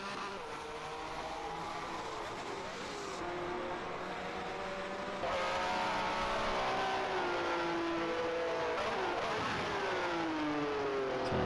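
Two 1967 Formula One Ferraris, one blue and one red, race wheel to wheel at Longford, engines screaming steadily with pitch rising and falling through gear changes, loud and close throughout.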